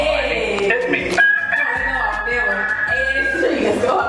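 People at an axe throwing venue imitate chicken clucks and crowing, a stretched rooster-like call among choppy voice noises and background chatter, with a clear drawn-out crow in the middle.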